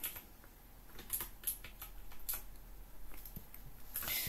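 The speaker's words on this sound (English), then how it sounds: "sorry if you hear all these clicks going on. I have a little like keyboard shortcut keypad" Small plastic keys on a keyboard shortcut keypad click faintly and irregularly, scattered single taps and short bursts close by in a quiet room during live digital drawing.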